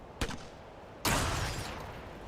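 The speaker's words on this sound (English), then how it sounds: "So let's throw another grenade there." In the turn-based tactics game Xenonauts 2, a short sharp crack comes first, then a louder grenade explosion follows with a broad, rumbling blast that slowly fades out.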